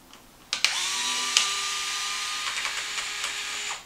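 Cordless power driver with a 2.5 mm hex bit backing screws out of a Traxxas MAXX RC truck's rear axle assembly, a close, loud whining motor run of about three seconds with clicks at the start.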